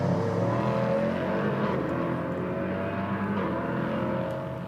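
Prototype race cars in a Prototype Cup Germany race at the Hockenheimring, a steady, loud engine drone with a sustained rumble and no clear individual pass-by.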